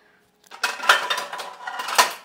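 A metal momo steamer vessel is handled in a home kitchen, producing a couple of seconds of close clanking and rattling metal against metal.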